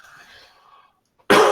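A man coughs once, loud and close, in a short burst after faint background murmur and a near-silent pause.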